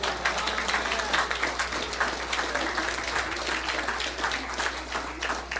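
Sustained audience applause fills a city council meeting chamber, steady dense clapping throughout at moderate level with no pauses.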